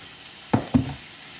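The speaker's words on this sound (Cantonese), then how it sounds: "而家你見到我煎緊魚嚇，每邊煎5分鐘" Fish frying in a pan for a fish with white sauce dish: two short bursts of sizzling spatter, close and moderately loud, against an otherwise quiet kitchen background.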